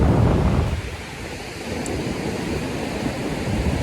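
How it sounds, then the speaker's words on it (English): Rain and surf on a beach in Langkawi, Malaysia, a steady broadband wash with low rumbling swells, louder at the start, then settling into a continuous roar with no voices. "The rain's picking up"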